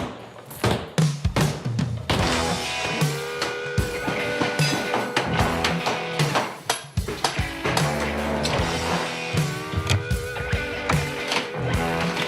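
Heavy blows from a big hammer during a house renovation demolition, a dense series of loud close impacts and thuds mixed with crashing debris and clatter.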